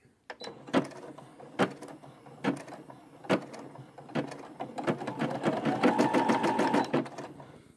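A Brother embroidery machine stitching, close and rhythmic with regular mechanical clacks that start spaced out and speed into a steady rapid whir with a faint motor whine.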